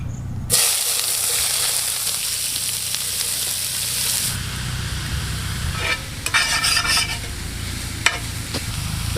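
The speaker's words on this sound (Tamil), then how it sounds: "பொடிசை நறுக்கி வச்சு வெங்காயத்தை போட்டுருவோம்." Finely chopped onions hit hot oil in a pan with a sudden loud sizzle that holds steady, then a spoon stirs and scrapes near the end, with no talking.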